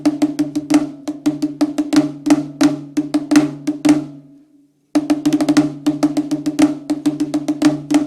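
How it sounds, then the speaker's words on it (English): A snare drum line in common time plays crisp, sharp strokes in a steady syncopated pattern with a resonant ringing tone, pausing briefly near the middle before resuming at the same loud, close level. "our snare drum line is in common time, so we're hearing a section that sounds like this."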